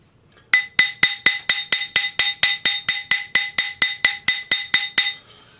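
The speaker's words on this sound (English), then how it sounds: "with the flat part of your planishing hammer, you can just gently tap it around the thinner part of the band" A planishing hammer's flat face gently taps a thin metal ring band, about sixteen evenly spaced bright metallic clinks ringing out close and alone before stopping.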